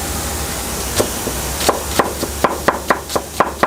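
A knife chops onions on a board in quick, sharp taps that speed up into a steady rhythm over a faint background hiss.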